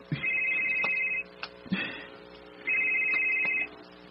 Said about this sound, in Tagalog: Dawata kayong cellphone.